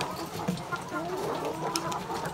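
Laying hens cluck continuously on a poultry farm, a dense, busy mix of many birds close by, with faint voices mixed in.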